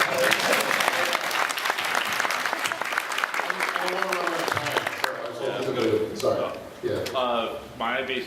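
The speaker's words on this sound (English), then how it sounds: "Everybody applaud right now for everybody" A dense convention panel audience bursts into loud, steady applause that gradually thins out, with voices talking over the fading claps near the end.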